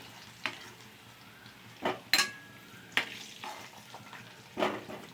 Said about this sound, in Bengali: মেটেটাকে ভাজা বসিয়েছি, তুলে নিচ্ছি।